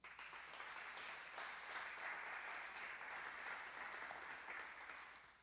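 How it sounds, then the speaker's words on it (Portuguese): Faint, steady applause from a church congregation during a sermon, a continuous soft wash of clapping heard from a distance that tapers off at the end. "Dá um aplauso aí."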